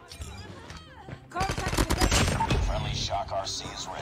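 An AK117 rifle with a legendary skin fires in the Free Fire mobile game, a rapid burst of sharp automatic shots crackling at close range, followed by scattered game effects, with a voice heard faintly at the start.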